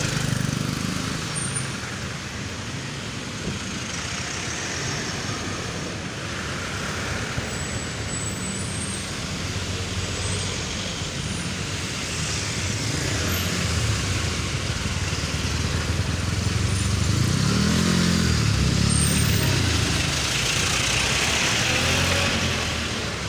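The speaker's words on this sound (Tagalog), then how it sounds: "Traffic sa Davao" Busy street traffic in the Poblacion area of Davao, with cars, trucks, buses and motorcycles passing in a steady, continuous roar that swells slightly toward the end.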